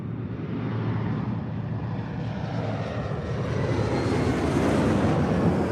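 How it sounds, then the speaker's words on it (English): Singapore Airlines Boeing 777-300ER at LAX, a steady, loud jet engine roar that builds slightly over several seconds, broad and continuous with no voices over it. "It's 777-300ER with Singapore Airlines."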